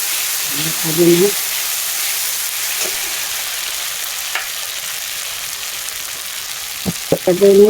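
Panch phoron spices sizzle and crackle in hot oil for a jackfruit-seed dal, a steady close frying hiss with a few stirring clatters, while someone speaks briefly at the start and end.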